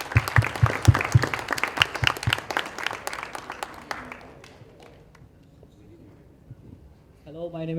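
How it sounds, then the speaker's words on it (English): Audience applause at an Adobe Certified Associate Championship awards ceremony in India, with dense, close clapping for about four seconds that fades away, then a brief voice near the end. "I think I have to clap"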